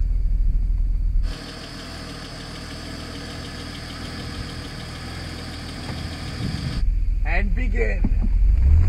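A BMW car engine from a budget $2000 build runs at the start of a timed racing run, a steady, fairly loud drone holding for several seconds before a voice speaks over the cabin noise.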